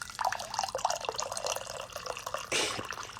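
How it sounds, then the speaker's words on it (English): Coffee is poured into a cup as a soft, trickling stream with small drips and a brief louder gush near the end, heard close and quiet. "I'm going to pour myself a little more coffee."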